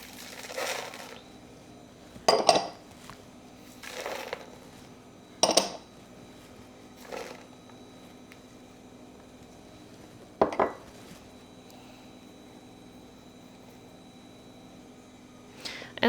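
Ingredients for Texas BBQ meatballs get dumped into a big bowl: sparse clinks and knocks of dishes and utensils at irregular intervals, moderately close, with quiet stretches between and no talking.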